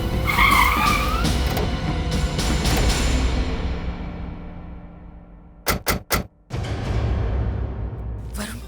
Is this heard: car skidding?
yes